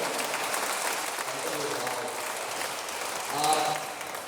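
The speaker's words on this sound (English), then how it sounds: "Let's give everyone who celebrated this evening a big round of applause." Applause at an awards ceremony honoring women, a broad steady patter of clapping across the room that holds throughout, with a voice briefly audible over it near the end.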